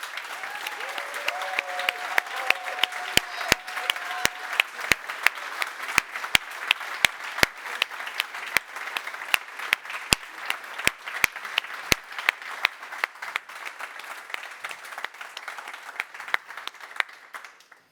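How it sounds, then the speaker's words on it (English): An audience at the Neos Con 2024 awards applauds the award nominees with steady, sustained clapping that has sharp individual claps standing out, a full room continuing for many seconds before it tapers off at the end. "please give an applause to those nominees"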